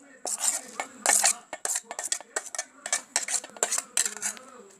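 A mango mixture for thokku scraped into a bowl with a spoon, giving a close series of quick metallic clinks and scrapes of spoon against dishware in uneven bursts.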